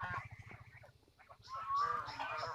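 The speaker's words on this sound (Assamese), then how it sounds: "এই হাঁহকেইটাই বৰকৈ খুটিবলৈ আহে।" Geese honk in a village yard, a run of loud, close calls in the second half following quieter low rustling and background sound.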